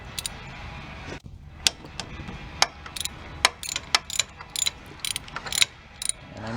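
Ratchet wrench loosening 15mm bolts on the power steering pump of a 2007 Ford Taurus, heard as a string of sharp, close clicks coming in bursts with short pauses, no talking.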